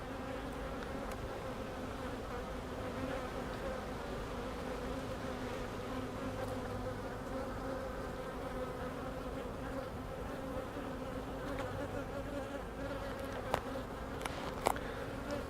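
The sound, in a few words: honey bees buzzing around a beehive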